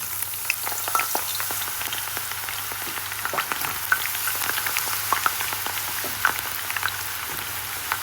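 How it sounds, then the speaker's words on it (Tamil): Brinjal pieces fry in hot oil in a pan for a Jaffna-style curry. A steady, dense sizzle with scattered crackles and pops continues throughout at close range, with no talking. "ஒரு பாத்திரத்தில் எண்ணெய் விட்டு சூடாக வச்சுருக்கிறேன் இதுக்குள்ளே நாங்கள் இப்போ கத்திரிக்காயை போடுவோம்"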